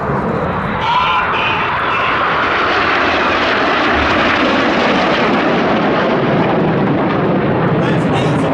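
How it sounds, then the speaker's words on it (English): RAF Red Arrows jets diving to 200–300 feet above the airfield at an air festival, producing a loud, sustained roar that swells and rushes overhead, with a commentator talking over the noise. "Each pair will now dive down to approximately 200 to 300 feet above the airfield."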